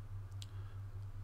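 A computer mouse gives a couple of small, crisp clicks close up over a low, steady electrical hum, with no speech.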